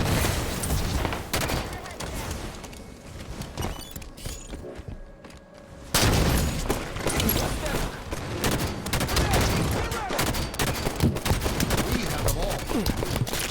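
Bursts of enemy gunfire in Halo 5: Guardians arena matches, dense and rapid, with a brief lull near the middle before heavy firing resumes; a player talks over the action.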